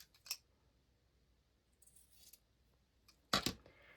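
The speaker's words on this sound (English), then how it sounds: "First I'm going to cut this more straight." Scissors snipping straight through material for a pokey tool holder, three crisp separate cuts, the last the loudest, with quiet pauses between.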